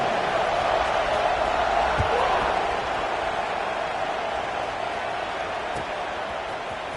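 Steady crowd buzz fills a football stadium during an Ohio State versus Michigan college game, a loud continuous murmur of many voices held evenly throughout, with no distinct cheers standing out.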